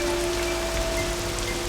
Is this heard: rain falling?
yes